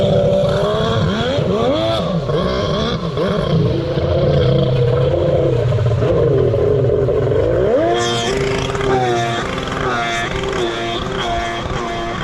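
A Sea-Doo X2 jet ski with a swapped 1100 engine runs a timed lap, its loud, close, continuous roar rising and falling in pitch as the throttle changes, with a sharper surge near the end.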